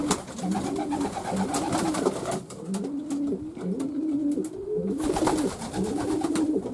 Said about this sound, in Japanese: 飛び回る鳩たちです。